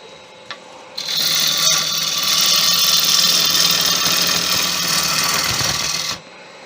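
A wood lathe spinning at 1200 rpm as a Crown Crio gouge takes a full cut on a bowl, a loud, steady, close hiss and rumble of cutting lasting about five seconds before stopping abruptly.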